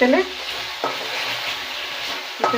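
Wet masala sizzles in hot oil in a pan for potato dum after a splash of water goes in, a steady close frying hiss with a few stirring scrapes near the start and end.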